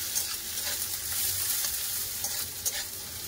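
Chopped onions frying in hot oil with bay leaf, dried red chilli and five-spice seasoning, giving a steady, dense sizzle with occasional stirring scrapes, close and continuous throughout.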